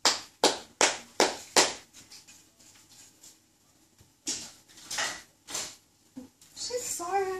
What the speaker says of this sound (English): Are you gonna clap?